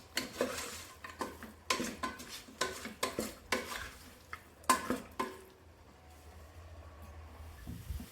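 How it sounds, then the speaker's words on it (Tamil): A spoon scrapes and clinks against a pot as mutton is stirred with ginger garlic paste, turmeric and chili powder, giving steady rhythmic knocks over a faint background hiss. "இது எல்லாத்தையும் கலந்து விட்டுக்கலாங்க."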